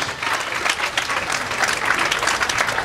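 Sustained applause from a crowd at a civic ceremony, with steady dense clapping filling the whole stretch at an even, fairly loud level.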